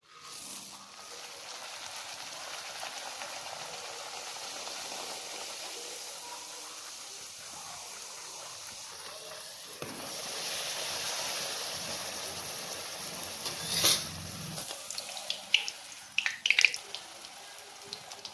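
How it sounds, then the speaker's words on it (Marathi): Puris frying in hot oil give a steady sizzling hiss that swells midway, with a few sharp crackles and pops toward the end. "एक एक करून सगळ्या पुऱ्या आपण तळून घेऊया."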